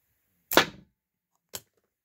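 A sniper sling dart launched with heavy bands snaps off sharply, followed a second later by a shorter, quieter thud, both isolated in silence.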